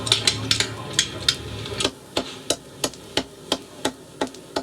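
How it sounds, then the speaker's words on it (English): Heavy knives strike chopping boards in a busy Hong Kong kitchen, sharp woody thwacks landing in a steady close rhythm about twice a second, with a dense clatter of other chopping behind the first stretch. "Heavy knives collide with chopping boards."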